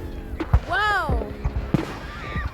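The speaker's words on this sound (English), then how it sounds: "A Disney firework created." Fireworks going off at a Fourth of July display: a couple of sharp bangs and a rising whistling burst, with voices and people talking throughout.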